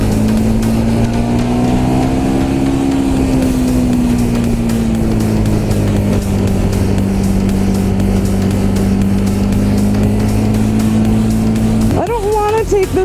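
A Ducati Monster 1200S motorcycle being ridden, its engine droning steadily with a low, slowly shifting hum under wind noise, then a brief rev change near the end; a rider talks over it.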